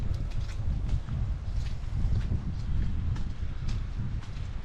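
Wind gusting through woodland trees at night on a wet, windy hike, a steady, full rushing roar with faint rustling and buffeting, continuous and fairly loud throughout.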